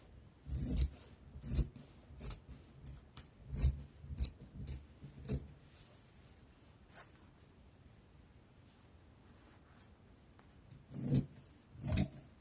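Scissors cut dress fabric along a paper pattern for a maxi circle dress, a close series of crisp snipping strokes in uneven bursts with a quieter pause in the middle, and no voices.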